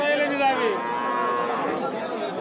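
A bovine at a busy cattle market in Raniganj lets out a long, loud, drawn-out moo close by, with faint crowd chatter underneath.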